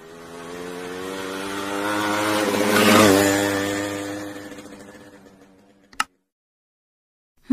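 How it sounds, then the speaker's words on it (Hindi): A motorcycle passes by, its engine note rising to a loud peak as it draws near and then fading into the distance, followed by a brief sharp click and silence. "मोटरसाइकिल।"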